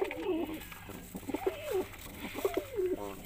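Indian fantail pigeons in a breeding setup coo in soft, repeated throaty rolls, several calls in a row at close range over faint background hum.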